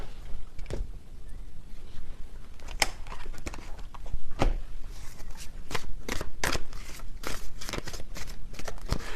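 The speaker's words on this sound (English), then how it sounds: "Let me get a few more tarot cards here." Tarot cards handled and shuffled close up, a steady run of soft papery rustles punctuated by several sharp card snaps and taps throughout.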